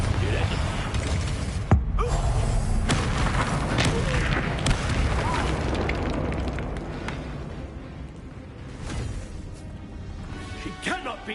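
Confringo fire spells and other combat spells blast repeatedly in a Hogwarts Legacy fight on PS5, a dense, loud, continuous wash of booms and crashes with voices shouting over it.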